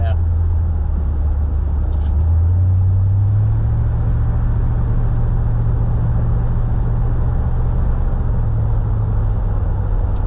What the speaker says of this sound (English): It's got a nice little rumble to it,